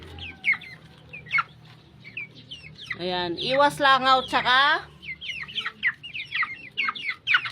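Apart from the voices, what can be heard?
chickens clucking under their raised cage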